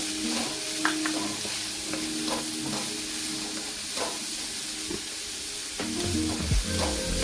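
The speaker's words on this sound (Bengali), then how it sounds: "এই সাথে ভালোভাবে মিক্স করে নিচ্ছি সবজির সাথে" Mixed fried rice with vegetables being stirred and fried in a pan, giving a steady sizzle throughout with repeated scraping and clinking strokes of the stirring utensil, close and loud, with no talking.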